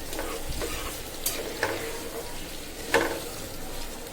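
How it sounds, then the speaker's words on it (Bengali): Onion, garlic and green chillies frying in oil for a Bengali ridge gourd dish, with a soft steady sizzle and occasional stirring scrapes, fairly quiet and close. "চিচিঙ্গা ভাজি করার জন্য আমি পেঁয়াজ রসুন কাঁচামরিচ আগে তেলে ভালোভাবে ভেজে নিচ্ছি।"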